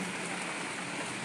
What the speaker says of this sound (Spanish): lloviendo torrencial aguacero